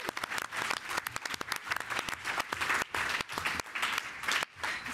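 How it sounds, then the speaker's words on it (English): An audience applauds at the final presentations of a 24-hour filmmaking project, a dense, steady clapping that fills the room with a brief lull near the end. "Let's give them all a round of applause."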